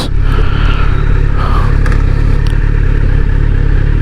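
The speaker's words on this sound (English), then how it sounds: "let's see how this vehicle can accelerate" A Kawasaki Z streetfighter motorcycle accelerating hard, a loud continuous engine roar with heavy low rumble and wind buffeting, close to the rider.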